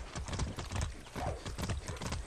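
Steady clip-clop of horse hooves in the video game Far Cry 6, a brisk rhythmic trot heard close by, continuous throughout with a busy background.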